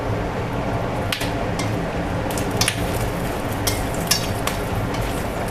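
Bay leaves and two or three cardamom pods fry in hot oil in a wok, giving a continuous low sizzle broken by sharp pops and crackles, close and fairly loud, with no talking.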